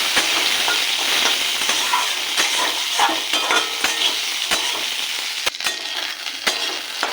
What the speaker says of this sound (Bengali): আর দিয়ে দেবো পেঁপে, আর দেবো লঙ্কার টুকরো, একটু ভেজে নেব।